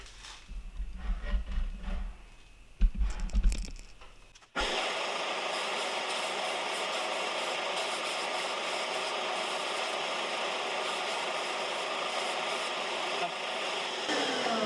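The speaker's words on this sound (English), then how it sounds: "my belt sander over here." A belt sander in a home workshop starts after some handling noises, then runs as a loud, steady, broadband whir with a sanding hiss until the end.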